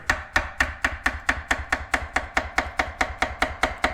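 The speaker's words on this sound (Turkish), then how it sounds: "Muzu ince ince doğruyorum." A knife chops rapidly and evenly through a banana on a board, thin slices at about four crisp taps per second, close up with no talking.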